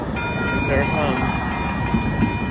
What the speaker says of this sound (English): So the train is getting ready to pass by.